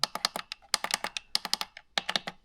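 Keys on a computer keyboard with a 3D-printed part click in quick, irregular bursts of close, crisp taps, with brief pauses between the runs of typing.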